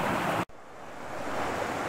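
Small forest waterfall where a stream spills over step-like rock ledges, a steady close rushing wash of water that cuts out briefly, then resumes and slowly swells.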